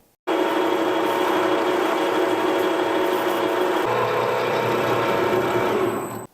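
A milling machine, model ZAY7045V/1, cuts through a steel workpiece just under half an inch thick, producing a loud, steady, continuous machining whine that runs unbroken for about six seconds, with no talking.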